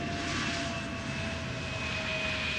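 An airliner arriving at Amsterdam Schiphol Airport, its engines giving a steady, fairly loud roar with a faint high whine that holds through the whole stretch, with no speech over it.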